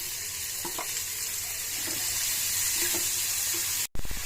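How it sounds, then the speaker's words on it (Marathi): Chopped onion fries in a little oil in a kadhai, giving a steady, soft sizzling hiss throughout with a few faint clinks, then a brief cut near the end before the sizzle resumes. "कढईमध्ये थोडंसं तेल टाकून घेऊया आणि कांदा थोडासा फ्राय करून घेऊया"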